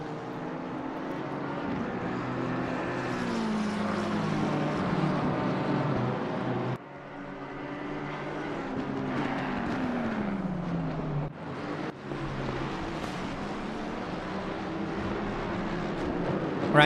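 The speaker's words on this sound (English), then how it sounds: "We can hear the engine of the McLaren and a couple of the other drivers still fighting for position behind him." McLaren GT race car engine at Imola with other cars close behind, a continuous loud roar with shifting pitch as the cars pass and change gear, steady throughout.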